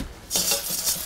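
Whole buckwheat groats stirred in a pan, with a quiet start and then a burst of close, dry scraping and rattling of utensil against pan for about a second.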